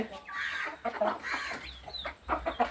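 Chickens cluck and chatter close by in a busy, overlapping flurry, with a few sharper calls rising above the rest.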